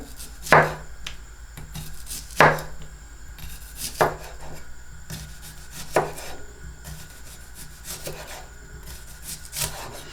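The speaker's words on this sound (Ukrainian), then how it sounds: "Спочатку нарізаю такими кружельками на низ цибульку." Several sharp knife cuts slicing an onion into rings land on a cutting board at uneven intervals, crisp close-up chops with quiet kitchen background between them.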